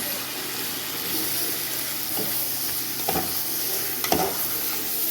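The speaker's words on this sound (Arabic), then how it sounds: "بعد كده هنزل بالرز المغسول" Washed rice poured into golden fried vermicelli in a hot pot, a steady loud sizzle with a few distinct scraping stirs, no speech over it.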